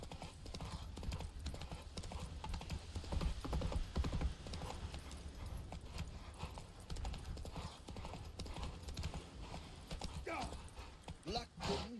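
Roach, a horse in The Witcher 3: Wild Hunt, clip-clops steadily at speed through a busy game soundscape, hooves continuing under background noise and brief voices.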